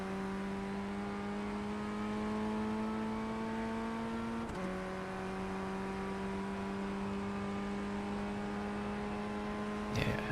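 Formula Ford 1600 race car with a 1.6-litre engine in the iRacing sim, a steady, near engine drone that holds revs, with one quick gear shift and a brief bump at the end, no talking.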